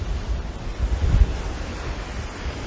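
Rough ocean surf rolls in at Miami Beach, a steady low roar of breaking waves mixed with gusty wind buffeting the microphone and one heavier surge in the middle.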